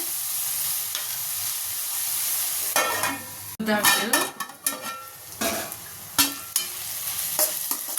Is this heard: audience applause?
no